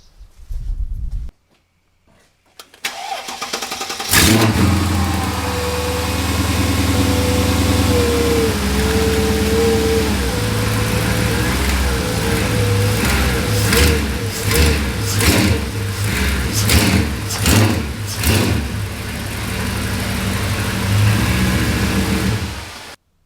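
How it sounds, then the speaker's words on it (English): A Mercedes CLK55 AMG's M113 V8 engine, fitted with solid motor mounts, cranks and starts, settles into a loud rumbling idle, then revs repeatedly in sharp bursts. "But I'm going to go fire up the car."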